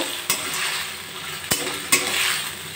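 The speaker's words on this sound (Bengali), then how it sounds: "গ্যাসের ফ্লেমটা বাড়িয়ে আলুগুলো 1 মিনিট নাড়াচাড়া করে নেব" Potatoes stir-fry over a high flame after asafoetida goes in, a continuous sizzle broken by three sharp utensil clacks against the pan, heard close with no talk.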